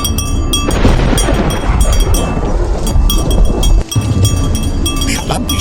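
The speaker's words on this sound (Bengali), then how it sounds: "বৃষ্টিটা আর আসার সময় পেল না, থেকে থেকেই বাঁশ বাগানের কাছে এসে শুরু হলো।" A steady, loud wash of cartoon rain pours down by a bamboo grove, with a low rumbling roll of thunder under it and a brief dropout near the middle.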